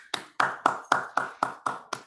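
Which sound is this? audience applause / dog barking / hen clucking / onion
audience applause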